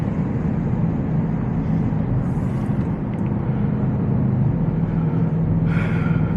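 Audi RSQ8 SUV engine pulling hard from merging speed, a steady loud low drone with rising road and wind roar heard from inside the cabin, no talking.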